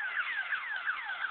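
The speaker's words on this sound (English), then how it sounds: "the Liberal Arts Building fire alarm goes off when it's snowing" A building fire alarm sounds outdoors on a university campus in snowfall, a steady repeating electronic warble with falling sweeps, moderately loud and alone.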